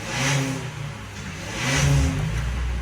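A Toyota Vios engine cranks and catches after an aftermarket push-start button is pressed, then revs up loudly and settles into a steady mid-pitched run, close by with no talk.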